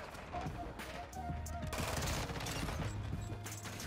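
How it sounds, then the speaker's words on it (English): Rapid full-auto pistol fire from a 50-round gun in Call of Duty: Modern Warfare II crackles in a dense burst, mixed with game noise and a voice. "Freaking 50 rounds full auto pistol."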